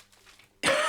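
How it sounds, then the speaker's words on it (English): A single sharp cough bursts out loudly at the very end after a near-silent moment, from someone crafting indoors who is unwell. "I am not quite well at the moment, so I do apologise about coughing"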